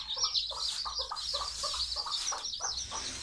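Chickens cluck inside a coop in a steady run of short, repeated calls that overlap one another at close range, with no talking over them.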